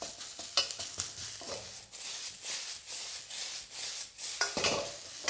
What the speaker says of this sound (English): Great sound, never lose that sizzle